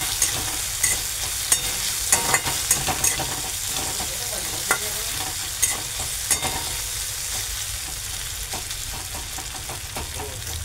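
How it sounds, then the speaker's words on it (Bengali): Small chuno fish frying in a pan with turmeric and salt, a steady close sizzle with scattered crackles and sharp pops throughout. "ভাজা হয়ে এসেছে।"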